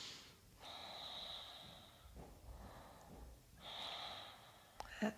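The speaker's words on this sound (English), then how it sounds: "Few deep breaths." Slow, deep breaths drawn in and let out during a yoga chest-opening stretch with hands clasped behind, each inhale and exhale a soft airy rush, close and quiet, with a brief sharper sniff near the end.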